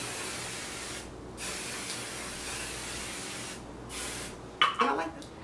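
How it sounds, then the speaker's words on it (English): Several short hissing sprays from an aerosol can of Sebastian Shapers hair finishing spray, faint under steady background noise, with a brief clatter near the end. "I always kind of use a finishing spray."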